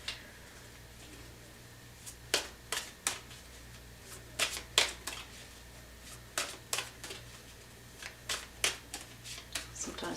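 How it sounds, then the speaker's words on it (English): Tarot cards are shuffled by hand in quick, close bursts of crisp riffling snaps, repeated irregularly against a quiet, low hum. "Sometimes I just feel like I need to shuffle,"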